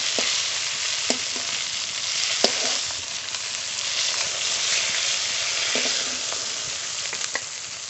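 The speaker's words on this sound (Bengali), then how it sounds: "এই মাছগুলো ভাজা হয়ে গেছে" Pieces of fish sizzle steadily in hot oil in a home kitchen, a continuous crackling hiss punctuated by occasional sharp pops, close and moderately loud.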